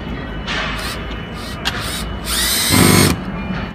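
Power drill driving bolts into the top panel of a children's table, with loud whirring bursts that rise in pitch and strain near the end, close up and without talk.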